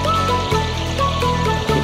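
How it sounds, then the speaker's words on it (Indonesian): Water from a river flows along a tubing route in a steady, close rushing wash, with no talk over it. "Nah, ini jalurnya air dari kali sana ya."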